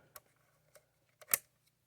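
An Adox 300 film camera is handled while being opened to load film, giving a few faint, sparse clicks and a slightly louder mechanical snap, quiet and close with no talking.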